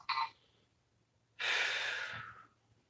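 A short breath sounds first, then after a pause comes one long, close, airy inhale during a stretching exercise, trailing off softly.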